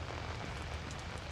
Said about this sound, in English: It's rainy and so dark outside.